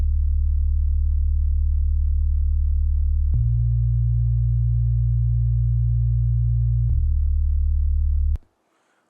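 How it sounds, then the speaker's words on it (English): A deep, steady bass synth tone drones alone, shifting pitch twice in long held notes before cutting off abruptly near the end. "We need to check out this bass synth here."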